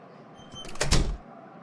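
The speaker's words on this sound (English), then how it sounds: "She is locking the door." Door being locked in a restaurant in a Plotagon animation: a single short latch-and-bolt clunk with a brief rattle, fairly close and standing alone against a quiet background.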